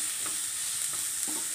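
Chopped onions sautéed in hot oil in a pan, a steady hiss of sizzling with a few soft stirring scrapes of a spoon, no voices.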